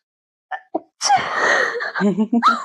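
One short, sharp sneeze bursts out close by after a couple of small intake sounds, followed by a brief voiced murmur.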